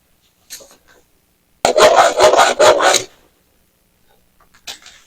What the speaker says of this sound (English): it's got a little end hacksaw here. We're going to try to put a slot in there.